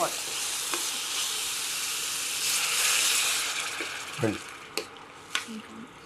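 Water hits a hot pan of vegetables frying in oil, setting off a loud rushing sizzle and steam hiss that swells, then eases into bubbling with a few clanks of stirring, with faint talk near the end.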